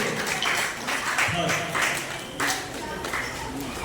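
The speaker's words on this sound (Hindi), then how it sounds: "एक बार जोरदार तालियां रेणुका जी के लिए" An audience at a Garba and Dandiya Raas festival celebration claps for a prize winner, a dense, continuous round of applause lasting several seconds with voices mixed in.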